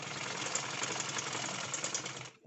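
Sewing machine stitching fabric down on a homemade Zara-style cap, a steady close whirring run that holds for about two seconds and then stops.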